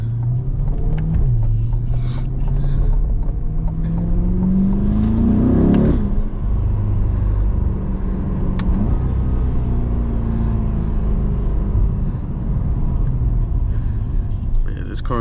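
Car pulling away from a green traffic light on a Florida road, the engine revving up through rising pitch then shifting and steadying into a continuous drive hum, loud and close from inside the cabin.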